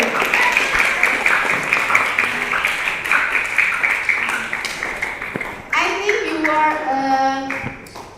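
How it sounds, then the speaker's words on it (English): At a speaking summit, an audience claps for a speaker, steady rhythmic applause for several seconds, after which voices and talk take over toward the end. "Give a big applause to Kevin for today."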